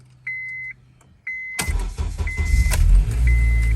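A Honda Accord with a failing starter, as two dashboard chimes sound and then the engine cranks with a rough, hesitant churn that keeps going to the end.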